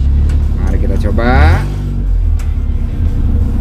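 A car engine with a leaking exhaust revs up in a rising roar over a deep, raspy rumble, then drops back to a rough idle, close and loud.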